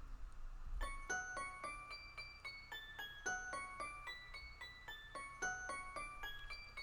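Modern toy piano virtual instrument in a bell-like voice plays a steady run of bright, ringing struck notes, each with a sharp attack and a short shimmering decay, at a moderate even tempo and fairly quiet level.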